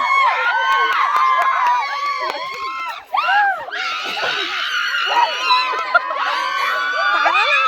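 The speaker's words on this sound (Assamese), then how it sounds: "সকলোৰে চিঞৰবোৰ শুনি গম পাইছে চাগে কিমান ফূৰ্তি মানুহবোৰ।" Dense crowd of students yelling, shrieking and cheering at a college week sports day, loud and continuous with rising and falling excited voices throughout, briefly dipping near the middle before surging again.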